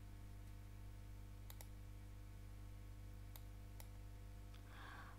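A computer mouse gives a few quick, faint clicks, some in close pairs, spread over a steady low electrical hum with no talking.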